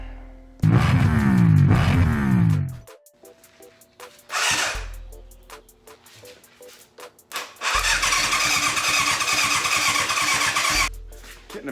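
A 1988 Yamaha FZ750 motorcycle with carburetors that need cleaning cranks on its starter for a couple of seconds and stops. After a short pop it catches and runs loudly and roughly for several seconds close by, then cuts out.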